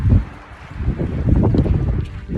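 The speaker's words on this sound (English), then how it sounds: "It's cool, it's windy," Wind gusts near Mount Laguna on the Pacific Crest Trail rumble against the microphone, a loud low buffeting that swells and eases over a couple of seconds.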